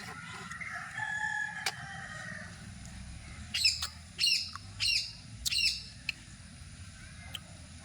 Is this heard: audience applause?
no